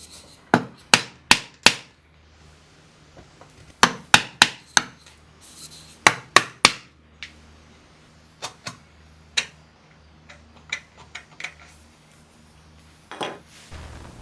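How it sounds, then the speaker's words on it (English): A standard bench chisel is tapped into the inside corner of a wooden dovetail, giving clusters of sharp, close knocks in groups of three or four, separated by quiet pauses and softer scraping. "let me show you an example of what happens when you try and use a standard bench chisel to clean up the inside corner of a"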